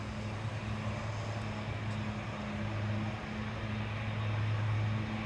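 A KLM Embraer 175 jet airliner on its takeoff roll from Amsterdam Schiphol's Polderbaan runway, bound for Aberdeen, giving a steady distant engine roar with low droning tones throughout.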